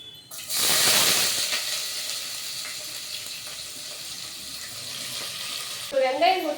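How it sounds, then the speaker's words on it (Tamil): Chopped onions hit hot oil in a pan with a loud sizzling burst that settles into a steady frying hiss; a voice briefly speaks near the end. "வெங்காயம் கொட்டி நல்லா வதக்கிட்டு இருக்கும்."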